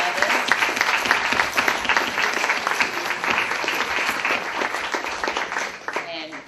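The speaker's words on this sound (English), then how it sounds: "Let's give a round of applause for Sherry Dank and Jim Campanini and Caroli" Audience applause at a Middlesex attorney general debate: sustained, dense clapping from a crowd filling the whole stretch, steady and fairly loud before tapering slightly at the end.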